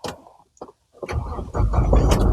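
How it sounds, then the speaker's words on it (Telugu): A 2018/19 Tata Hexa XTA with an automatic manual transmission turns over and fires on the first crank. The engine settles into a loud, steady close-up idle after a few quiet clicks. "చూడొచ్చు సింగిల్ సెల్ఫ్లో కార్ స్టార్ట్ అవుతుంది."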